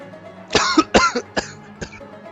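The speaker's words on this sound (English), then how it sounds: "Just start coughing out of nowhere." Four sharp coughs in quick succession, the first two loudest and the last a little apart, close to the listener with a faint room hum behind.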